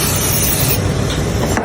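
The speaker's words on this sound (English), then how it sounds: "and then we're gonna actually have Jabril spray the pans down." Cooking spray is sprayed onto baking pans in a loud, continuous close-up hiss that runs unbroken for under two seconds.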